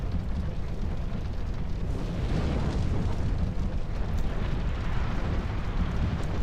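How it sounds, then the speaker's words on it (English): A metal windmill burns in Dark Souls 2, giving off a steady, loud roaring rush of fire and rumble that swells slightly and holds without a break. "Being able to just set the metal windmill on fire"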